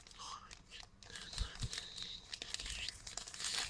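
Crinkling and tearing of plastic trading card booster pack wrappers opened by hand without scissors up close, with rustling, snapping crackles and a couple of soft thumps, no talk.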